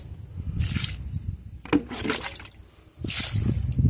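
Liquid fertilizer poured from a tub onto a chrysanthemum plant in a home garden, splashing and trickling in a few short close bursts with quiet pauses between.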